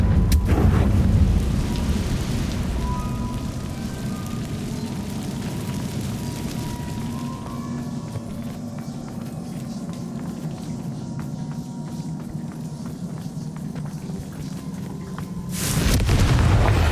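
A Confringo blasting curse erupts in Hogwarts Legacy, a loud booming blast at the start that rolls into a long, low rumbling roar, with another sharp burst near the end.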